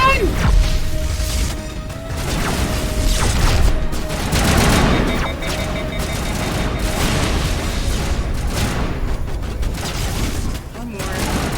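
Fusillade of gunfire in the Mass Effect: Legendary Edition video game, dense bursts of shots and booms running throughout, with voices talking over the fighting.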